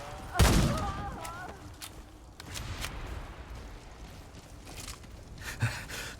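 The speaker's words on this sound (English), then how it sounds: "Someone's trying to shoot me from distance." Gunfire from distance in the shooter game Remnant 2: a loud sharp report near the start, followed by fainter scattered shots and rumble further off.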